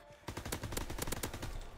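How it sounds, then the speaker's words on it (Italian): Gunfire in a WWII shooter video game: a loud, close burst of rapid automatic shots that bursts out of near silence and keeps rattling without a break. "Quello che mi sta sparando da qui è..."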